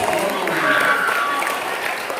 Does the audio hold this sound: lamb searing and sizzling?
no